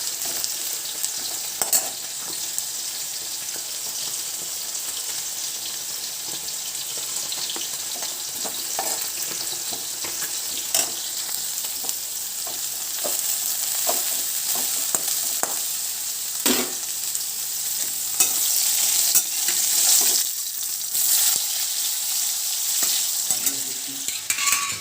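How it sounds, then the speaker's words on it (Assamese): Onions fry in a pan with a dense, continuous sizzle and hiss that stays loud and close throughout, broken by occasional stirring clicks and spatters. "পিঁয়াজ ভাজি হৈ আছে"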